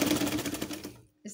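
A sewing machine stitching a fabric patchwork basket, a fast run of close, rhythmic clattering stitches that stops abruptly, then a brief bump.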